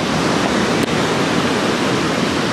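Ocean waves break on a Bali beach in a steady, loud roar of surf and rushing water that fills every moment without pause.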